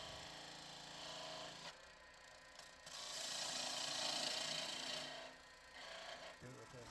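Wet wood turning on a lathe while a skew chisel makes peeling cuts, giving soft rasping, hissing shavings that swell and fade in bursts over a low mechanical hum, fairly quiet throughout.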